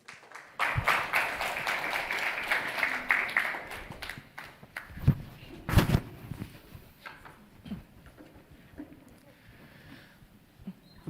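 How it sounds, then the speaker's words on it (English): Audience at an international architectural awards finale breaks into applause, a burst of dense clapping that holds for a few seconds, then thins into scattered claps and a few louder knocks. "Round of applause, ladies and gentlemen."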